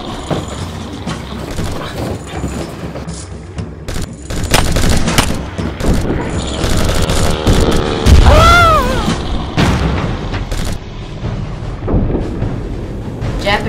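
Wartime gunfire and explosions from the Pearl Harbor attack, a dense, continuous barrage of booms and rapid shots with a loud blast near the middle and a rising whistle-like tone, faint voices underneath.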